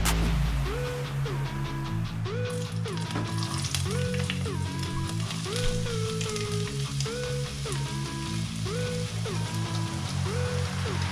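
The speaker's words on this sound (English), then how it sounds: "I'm going to throw in the peppers and onions into the saucepan on a low heat and let them start to soften" Peppers and onions sizzling softly in a saucepan over low heat, a steady crackling fry running continuously beneath rhythmic background music.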